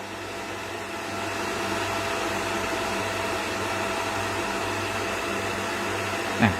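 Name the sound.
cooling fan of 1200 W power amplifier running with lid open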